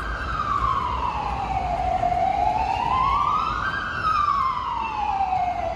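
A wailing ambulance siren in a Brussels street, rising and falling slowly and sounding loud and near over a low traffic rumble, with no voices present.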